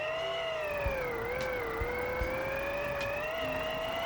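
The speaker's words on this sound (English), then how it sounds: "Yeah, it is the engine noise." A steady, droning car engine hum in the video game Screw Driver, with a slowly wavering pitch, continuous and fairly loud, with faint clicks underneath.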